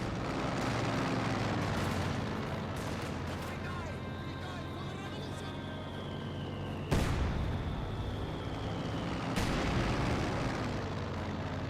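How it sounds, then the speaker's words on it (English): Fragmentation bomb run in the video game Company of Heroes 2: rumbling explosions and battle din with a sharp loud blast midway and another later, aircraft whine passing overhead, under ongoing talk. "I got another fragmentation bomb run there"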